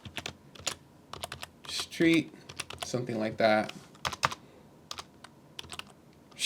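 Rapid, uneven keystrokes clatter on a computer keyboard, close by, with a person speaking briefly partway through.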